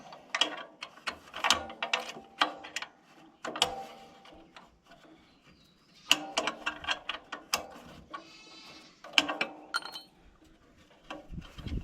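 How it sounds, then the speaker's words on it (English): A wrench loosening a bolt on a tractor seat gives bursts of close, sharp ratcheting clicks, with metallic clinks between the bursts and short pauses between rounds of turning. "I'm just going to take it out with a wrench, I guess"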